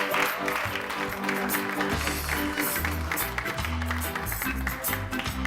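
An audience at a French-language television show claps to welcome a musician guest, a steady patter of applause, fairly loud and continuous, with some low thumping and background sounds underneath.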